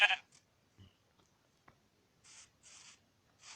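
In the video game Minecraft, a sheep gives several short, quiet bleats spaced apart, with near silence between the calls.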